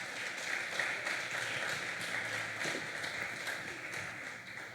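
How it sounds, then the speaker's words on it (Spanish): Church congregation applauding for the Lord, a dense, steady wash of many hands clapping together, loud and sustained throughout with no clear voices on top. "denle fuerte el aplauso al Señor"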